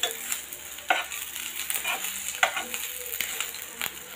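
An egg omelette fries in a home kitchen pan, a steady close sizzle broken by occasional sharp clinks and scrapes of stirring.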